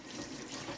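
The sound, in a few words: rinsing hands under running tap water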